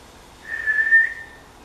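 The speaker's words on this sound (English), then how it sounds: "He blew his whistle, he blew a blast" A single sustained whistle blast, clear and fairly loud, held for under a second over quiet background with no talking.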